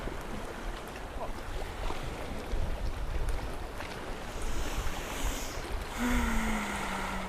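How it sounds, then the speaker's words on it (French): Ocean waves lap gently and steadily, a soft continuous wash with faint swells and no voices. "Le clapotis des vagues qui elles aussi vont et viennent."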